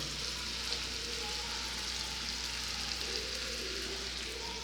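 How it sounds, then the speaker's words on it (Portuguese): Garlic sizzling steadily in a frying pan as it browns, a continuous soft crackling hiss with no talk, fairly quiet and even throughout. "Eu gosto de dourar o alho na frigideira."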